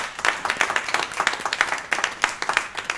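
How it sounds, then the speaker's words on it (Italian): Audience applause rings out at a road-safety conference in Rome, with clear, evenly spaced claps from a modest crowd keeping a steady rhythm throughout. "E questo naturalmente, secondo me, è lodevole di un grande applauso."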